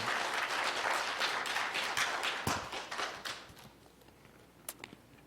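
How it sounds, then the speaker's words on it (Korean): A church congregation at a Sunday service in San Jose claps loudly in a dense burst, then the applause thins into scattered individual claps and dies away. "박수 치시려면 크게 쳐주세요."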